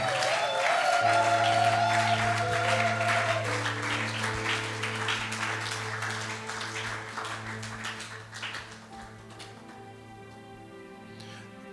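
Church congregation applauding during an evening worship service, steady dense clapping that slowly fades, with sustained music tones running underneath.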